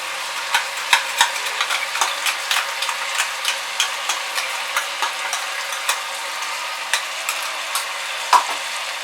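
Ground mint, coriander and green chilli masala going into a pot of chicken biryani, heard as a soft continuous sizzle with regular light scraping taps of a spoon, close, with no talk.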